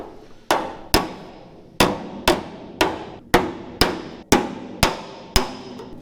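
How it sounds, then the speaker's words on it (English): A flat-faced Martin hammer strikes soft metal to flatten and straighten it, ten loud ringing blows at a steady half-second rhythm, each with a bright attack and brief decaying ring, close and alone. "So we're gonna use my Martin hammer with the flat face"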